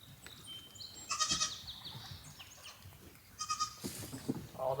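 Farm goats bleating in a few sharp, nasal calls, one near the middle and a cluster toward the end, over quiet rustling background.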